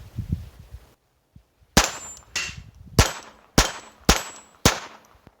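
Glock 44 pistol firing .22 LR rounds outdoors, six sharp shots in a fairly even cadence about half a second apart, each with a metallic ring and short decay, close and loud, after a brief quiet handling moment.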